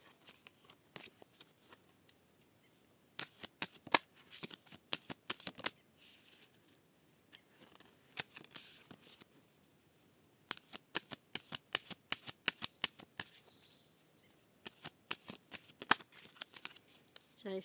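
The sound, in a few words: shuffling tarot cards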